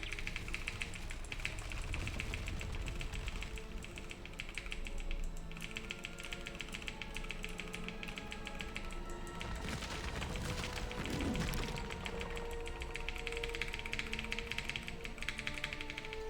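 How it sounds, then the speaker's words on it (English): Rapid, continuous computer keyboard mashing during a Dead Space 3 speedrun, a dense stream of clattering keystrokes that stays loud and steady throughout with no talk over it. "Hope you guys are enjoying my keyboard"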